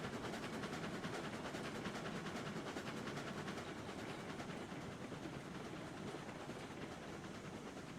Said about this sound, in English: I kind of need to rely on the chuffing sound just to be able to tell how fast I'm going.